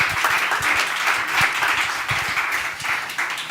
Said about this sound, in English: Big up applause.